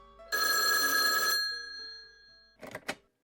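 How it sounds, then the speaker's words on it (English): An old-style telephone bell rings loudly for about a second, then gives a short second burst of ringing before cutting off into silence. "Just then, the phone rang."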